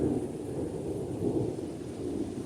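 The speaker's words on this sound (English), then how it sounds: "you should be able to hear the thunder." Low rolling thunder rumbles steadily as a storm builds on Zanzibar, a continuous deep roar with no voices.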